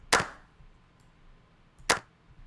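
Two sharp, dry clap hits about two seconds apart, each cut short so the tail is clipped tight, with near silence between them; a warped clap sample in an Ableton beat.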